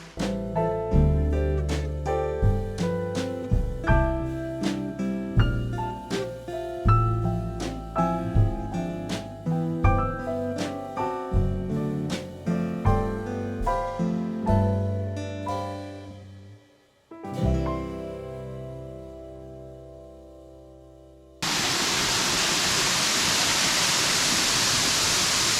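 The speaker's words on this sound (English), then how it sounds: "That's just the edge there of that little waterfall." Music with plucked, piano-like notes plays for most of the stretch, then cuts to a small waterfall in Morton National Park, a steady, even rushing hiss of falling water that runs alone to the end.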